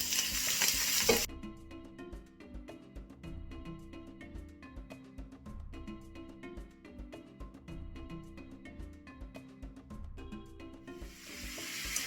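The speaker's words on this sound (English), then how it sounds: "It has to be really hot for the prawns, and I'm just going to put them in my pan." Prawns fry in very hot sesame oil in a pan with a steady crackling sizzle that stays close and fairly even. A brief louder hiss marks the start, and no one speaks.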